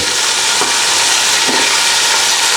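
Eggplant and carrot sautéing in a pan of oil for a dried-fish curry: loud, continuous close frying hiss with two soft stirring scrapes, no speech.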